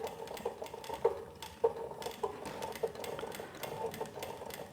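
An industrial walking foot sewing machine, Model 1903SX, stitches steadily with a fast, even mechanical chatter and a few sharper knocks, close up and with no talking.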